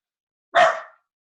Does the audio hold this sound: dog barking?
yes